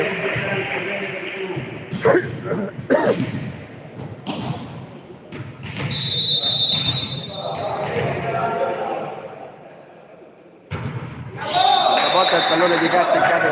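Volleyball match in a gym: a float serve and rally hits ring out as sharp thumps and slaps, several spread through the play, amid crowd noise, whistles and a commentator talking.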